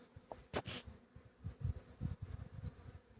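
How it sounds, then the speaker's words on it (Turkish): Honeybees flying around hives at an apiary on a pine-covered hillside, a soft low buzzing with scattered faint wingbeat passes and one brief brighter burst near the start. "Arılar sürekli şu tepeye çalıştı."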